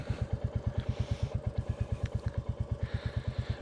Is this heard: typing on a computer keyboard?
no